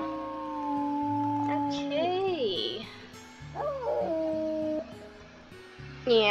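A wolf howls repeatedly in the survival game WolfQuest: Anniversary Edition, long rising and falling wails that break into yips and whimpers over a steady droning game soundtrack.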